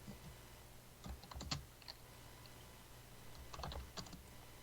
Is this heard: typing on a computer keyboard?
yes